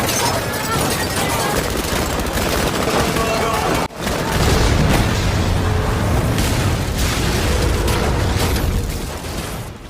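A heavy booming blast partway through, after a brief drop to near silence, with dense rumbling and crackling noise before and after.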